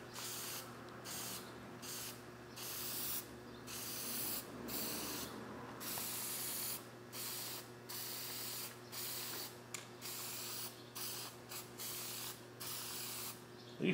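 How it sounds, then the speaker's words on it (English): Spray paint mists in repeated short bursts over a star stencil on a car hood, each hiss clear and close, broken by brief pauses in an uneven rhythm. "Again, we're going to give a light mist."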